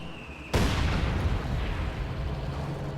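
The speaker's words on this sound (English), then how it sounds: "Heavy mortar firing on the machine gun there." Heavy mortar firing in a World War II game: after a faint tone, one sudden loud boom hits half a second in and decays into a long, rumbling roar that fills the rest of the moment.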